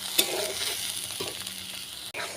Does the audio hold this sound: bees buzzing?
no